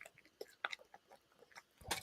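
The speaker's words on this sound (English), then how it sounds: "Can you hear the dog making his little chewy noises?" A dog chews close by, quiet and irregular, with soft wet chomps and crunchy bites scattered over a couple of seconds and one louder crunch at the end; no speech.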